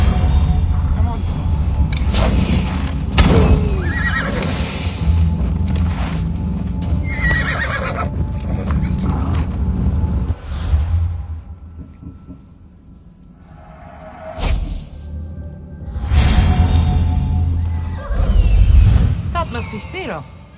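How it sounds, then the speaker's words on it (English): Horse sounds in the Assassin's Creed Odyssey video game, with a sturdy horse whinnying and hooves clip-clopping at a gallop across open countryside, fairly loud, mixed with music and talk throughout and a brief quieter lull midway. "Looks like a sturdy horse."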